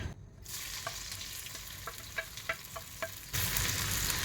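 Shallots frying in oil for ginger curry, a steady hiss dotted with small crackles and utensil taps, swelling louder near the end.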